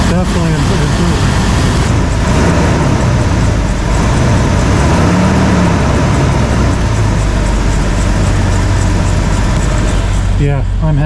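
Jeep TJ engine idling smoothly after fresh spark plugs and a new ignition rail, a loud, close, steady running rumble that lasts through nearly the whole stretch and then cuts off near the end.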